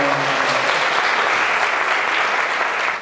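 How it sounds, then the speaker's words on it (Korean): Soldiers give a dense, steady round of clapping after a violin performance at a small concert on a military base, loud and close for about three seconds before cutting off abruptly. "박수!"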